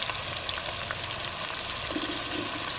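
Spinach koftas, meatballs, fry in a pan with a tomato, chili, turmeric and cumin masala and a little water, giving a soft, steady sizzle and bubbling at low volume with no voices.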